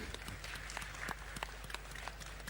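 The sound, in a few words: audience applause for a speaker at a conference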